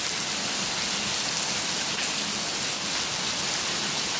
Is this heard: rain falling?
yes